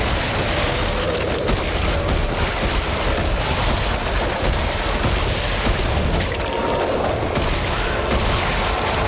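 Shotgun blasts and heavy combat in Dead Space 3 against Crimson-armoured enemies, a dense, loud, continuous barrage of booming shots and explosions filling the whole stretch.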